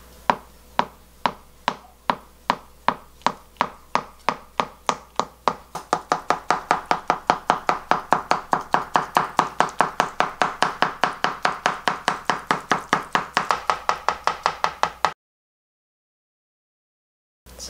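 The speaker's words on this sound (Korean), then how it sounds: "채를 썰어 볼게요. 썰는 게 되게 재밌거든요. 굉장히 잘 썰려요." A knife slices soft agar jelly into thin strips for a cold soybean soup, making a steady run of crisp, close chopping taps that quicken and tighten after a few seconds before stopping abruptly.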